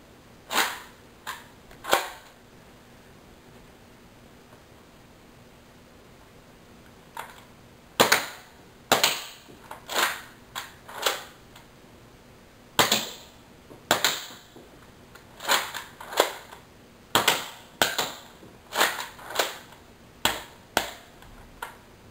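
Nerf N-Strike Elite Rough Cut 2X4 blaster firing foam darts: sharp, close snapping pops, singly and in quick pairs and clusters, separated by short quiet gaps, with a long pause early on.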